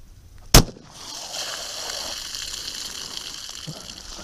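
A single sharp 9mm 127gr +P+ Ranger-T gunshot from a G17-length barrel cracks once, loud and close, fired into water jugs outdoors, followed by a steady gushing, spraying hiss of water that carries on to the end.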